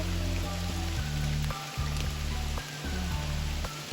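Rain falls on autumn leaves on a rainy morning, a steady close patter with a low continuous hum underneath and no voices.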